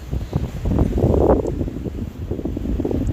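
Strong, gusty winter wind in southern Sweden during a snowstorm, a rough continuous roar buffeting the microphone with surging low rumble, loud and close throughout.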